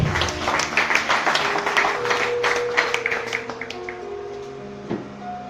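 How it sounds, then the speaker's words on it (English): Applause from a church congregation, a dense patter of claps that holds steady and then thins out, with sustained organ-like tones and a little talk mixed underneath. "Clap for the words of God."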